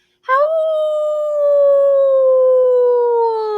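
A single voice lets out a long, sustained howl, sliding slowly downward like wind moaning, imitating a gust through a roof during a Halloween storytime.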